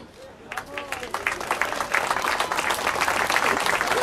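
Crowd applause for a stage winner at a cycling race trophy ceremony, with scattered claps starting softly and then building into sustained clapping, while an announcer's voice carries over it.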